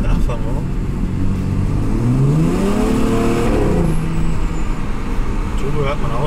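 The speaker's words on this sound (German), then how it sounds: "Turbo hört man auch schön." A twin-turbo Alpina B3 Biturbo F30 saloon (410 PS, Akrapovic exhaust) pulls through the revs, its deep engine drone sweeping upward then dropping off, loud and near, with turbo whistle and road rumble around it.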